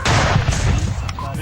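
Loud, dense burst of explosions or gunfire during political violence in rural West Bengal, a sustained roar of overlapping blasts lasting just over a second with no quieter gaps.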